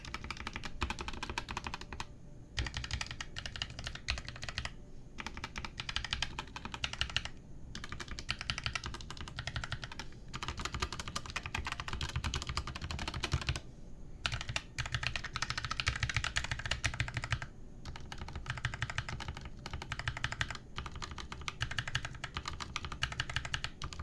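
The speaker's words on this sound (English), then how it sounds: "This is my Rakk Ilis with the brown switch. Let's put on the keycaps and let's compare it next to each other." Typing on mechanical keyboards, including a Rakk Ilis with brown switches and an Akko board, with keycaps fitted: fast, steady clacking keystrokes close up with brief pauses between bursts.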